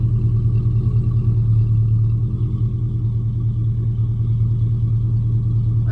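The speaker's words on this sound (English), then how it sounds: "muffler flipped around," Car exhaust idling through a reversed Gibson muffler, a steady deep low rumble held close and loud for the whole stretch, with no talk over it.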